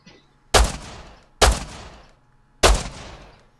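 Gunfire in the survival video game Rust: three separate sharp shots, each with a fading tail, spaced roughly a second apart, loud against quiet surroundings.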